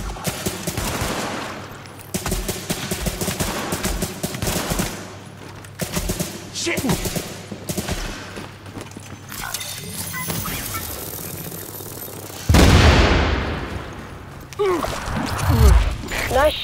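Gunfire in The Division video game, rapid bursts of automatic fire and scattered shots continuing throughout, with a voice talking over the fighting and a heavier blast near the end.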